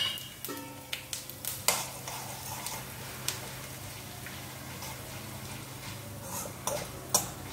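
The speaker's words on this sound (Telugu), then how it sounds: "ఇది ఇలా ఏగుతూ ఉంది కదా, మీకు చూపించాను కదా." Mustard seeds, cumin, urad dal and chana dal frying in hot oil, giving a steady faint sizzle with scattered crisp pops and ticks, and no talk.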